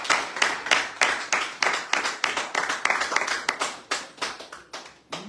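Sharp, separate handclaps ring out in an irregular, fairly quick rhythm, close and loud, from people clapping to thank caregivers as they do every Friday evening.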